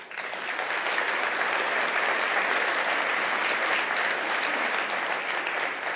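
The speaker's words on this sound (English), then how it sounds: "So I'm going to ask you all to give them a big round of applause" A conference crowd in Birmingham applauds, a dense, steady wash of many hands clapping that holds at an even, full level throughout with no voices over it.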